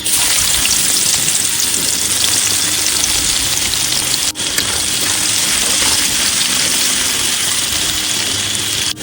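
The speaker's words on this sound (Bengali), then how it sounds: "বন্ধুরা আলু ভাজা হয়ে গেছে, এবার পেঁয়াজ দিয়ে দেবো।" Onions fry in a wok with a loud, unbroken sizzle and crackle that holds steady throughout, apart from one brief dip midway, with no talking.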